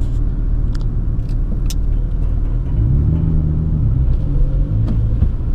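A Nissan 350Z engine drones loud and close while drifting on a track, with the driver working on and off the throttle. A steady, rumbling roar with slight rises and dips in pitch, no talk.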